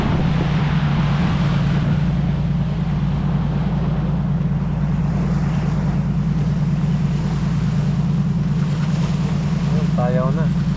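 A fishing boat's engine runs steadily at an easy six knots, a loud continuous low drone with water and wind noise around it throughout.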